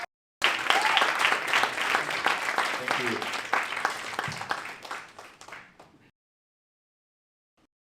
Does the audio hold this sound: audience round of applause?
yes